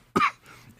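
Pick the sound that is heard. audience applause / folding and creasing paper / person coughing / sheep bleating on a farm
person coughing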